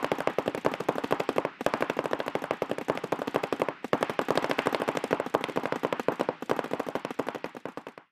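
Paintball markers fire in long rapid bursts, dense strings of sharp pops that rattle on with only brief pauses, loud and close with no talking.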